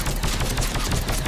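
Rapid gunfire in the video game Mass Effect 3 rattles in a fast, close burst of dense repeated shots with no talk.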